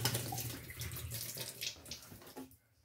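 Liquid fabric dye poured into a washing machine drum, a steady watery splashing stream running for about two seconds before cutting off abruptly into quiet.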